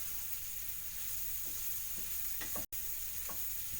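Mushrooms fry in a pan of stew with a steady, close sizzle and a few soft stirring scrapes, broken once by a very brief dropout.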